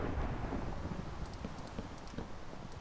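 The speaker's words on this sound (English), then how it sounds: "out on the front porch and watch these rainstorms come down" Rain falls steadily with deep rolling thunder in a Minecraft modpack game, a faint low rumble under scattered patters of raindrops, heard without any voices.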